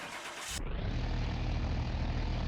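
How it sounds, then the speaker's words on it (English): A brand-new V8 engine in the Car Mechanic video game, fitted to a Mercedes-Benz 500E, catches after a brief crank and settles into a steady, rumbling idle close by. "That is a nice sounding engine in game"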